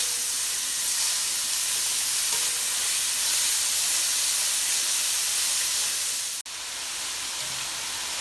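Cabbage cooks in a pan for a chicken spring roll filling, giving a loud, steady steamy hiss that drops out abruptly near the end before resuming.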